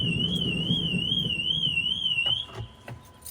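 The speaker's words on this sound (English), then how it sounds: "I always forget to turn my alarm off." An alarm goes off indoors, a loud warbling electronic tone that wavers steadily up and down for over two seconds. It then cuts off, followed by a few soft clicks and handling knocks.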